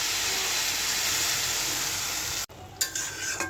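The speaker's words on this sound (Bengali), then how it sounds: "এখন দিয়ে দিব এই যে এটা হলো ভাতের মার" Steady loud sizzle of rice starch water poured into frying greens in a pan, a broad hiss that cuts off abruptly near the end, followed by quieter bubbling and a few scraping stirs.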